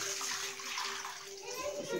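Rice being rinsed in water while preparing khichdi, a steady broadband splashing and swishing held close and fairly loud throughout, with a faint tonal hum underneath and no clear voice.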